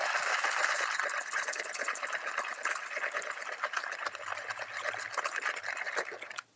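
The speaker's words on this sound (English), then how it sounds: "So this is the burr grinder, which is one of the best, and you can grind this up here." A burr grinder grinds coffee beans at home for a pour-over, giving a steady, dense grinding rattle that runs close and continuous for the whole stretch with no voices, then cuts off abruptly at the end.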